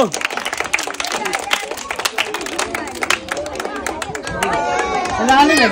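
Audience clapping for a young girl in class 2 who has just won a prize game, rapid overlapping claps from a nearby crowd with chatter mixed in, growing fuller toward the end.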